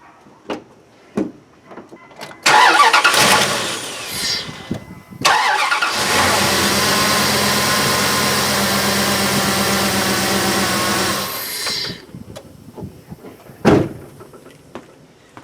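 Car engine cranking and catching after battery reinstallation, then idling steadily for several seconds before shutting off, close and loud, with scattered clicks and clunks of handling around it.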